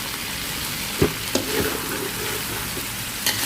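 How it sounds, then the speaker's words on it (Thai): Chu chee mackerel curry paste with seasoning is stir-fried in a pan, giving a low hiss of frying broken by a few sharp scraping knocks of the spatula, fairly quiet and close. "ผัดให้เข้ากันค่ะ"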